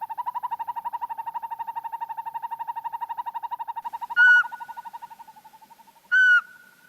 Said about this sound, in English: Here we meet the birds of the primeval forest, the hooting owls